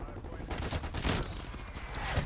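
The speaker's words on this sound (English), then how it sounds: "Another artillery." Rumbling artillery fire and explosions in the Call of Duty Cold War video game, several heavy bursts starting abruptly and rolling on with dense crackling blasts, fairly loud and close.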